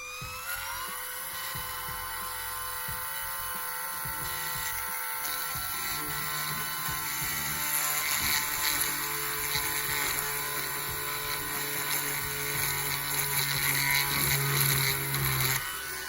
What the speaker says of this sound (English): And then we're gonna carefully drill a hole.